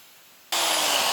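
A power tool starts abruptly and runs with a loud, harsh whine, cutting 10 mm plexiglass along a guide rail; the preceding half-second is near-silent.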